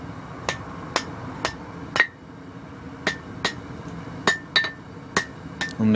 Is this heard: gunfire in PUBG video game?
no